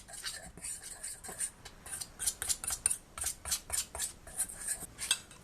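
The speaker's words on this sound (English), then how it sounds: "the salt, and the baking powder. Whisk it well." A whisk rhythmically scraping and clinking against a bowl as flour, salt and baking powder for madeleines are mixed, quick light strokes in a steady repeating pattern, close and fairly quiet.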